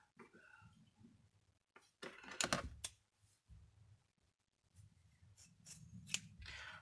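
Scissors cut a 40 cm length of thin ribbon for a hair headband, with a few crisp snipping and slicing strokes close by and quiet pauses between them.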